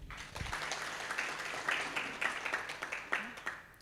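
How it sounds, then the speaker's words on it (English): An audience claps at a pension scheme annual general meeting in Kenya, a faint, uneven patter of hands that builds and continues for several seconds. "So, a better clap for Wakili."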